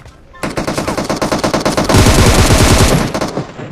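Rapid automatic gunfire in a shooting video game, a dense rattling burst of evenly spaced shots that swells louder and heavier midway, with faint voices underneath.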